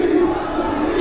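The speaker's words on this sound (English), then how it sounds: "And the ECW chants begin" A wrestling crowd in a 2K video game arena chants ECW, a steady, dense wall of massed voices filling the space without a break.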